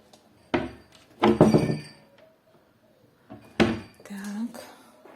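Several bright clinks and clatters of dishes and cups being handled, in short separate bursts, close by with quiet gaps between.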